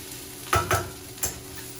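A few brief scraping stirs over a soft, steady frying sizzle of fennel and vegetables in a pan, close by, with short gaps between.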